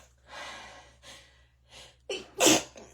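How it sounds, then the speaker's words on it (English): A single close sneeze bursts out loud after a few sharp breaths and gasps, with quiet room tone around it. "Sneeze."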